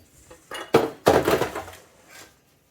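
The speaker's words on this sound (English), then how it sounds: "So now we're going to take our pan." Metal baking pan picked up and handled in a home kitchen, a few clattering clanks and rattles over about two seconds, close and fairly loud, fading to quiet.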